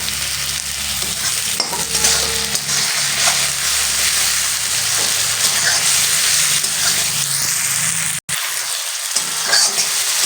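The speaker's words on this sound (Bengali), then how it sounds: "তো টমেটোটা আমাদের কিন্তু এই যে লাল লাল একটু ভাজা হয়ে গেছে।" Chopped tomato pieces frying in oil in a pan for an egg curry, giving a loud steady sizzle with stirring scrapes throughout, close up, briefly cutting out near the end.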